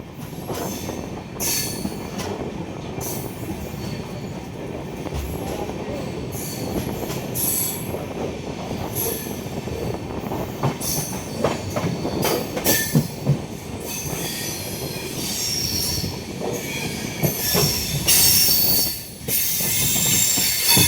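Amritsar–Bikaner Superfast Express rolling along at night, a steady loud rumble of railcars with rhythmic wheel clatter and occasional squealing wheels throughout.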